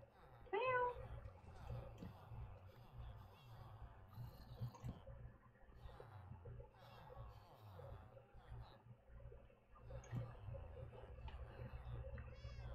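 Minecraft cat giving a single short meow near the start, then low murmuring talk and soft game sounds continue underneath.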